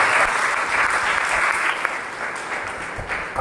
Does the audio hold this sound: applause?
yes